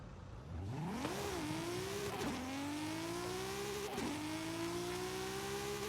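An Audi in Forza Horizon 5 accelerating flat out for top speed, its engine note climbing steadily with clear gear shifts interrupting the rising whine, loud and close with no talking.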